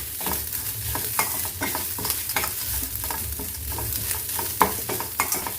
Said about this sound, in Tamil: போட்டு நல்லா இப்போது கொஞ்சம் வறுக்கணும்.